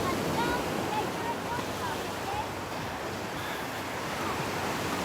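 Ocean surf washing steadily onto an empty beach at Naples Pier, a continuous broadband wash with some wind noise and no distinct breaking crashes, filling the whole stretch at moderate loudness.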